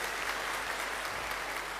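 Audience applause at an anniversary gathering in Panglong: a dense, steady wash of many hands clapping together, sustained and even throughout, heard from within the crowd with no talk over it.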